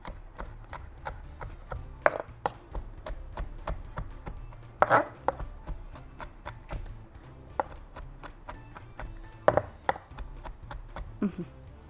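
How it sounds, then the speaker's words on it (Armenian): A knife chops garlic on a board in a home kitchen, with quick, regular, close taps and a few harder strikes standing out, and no voices. "Կտրատում ենք։"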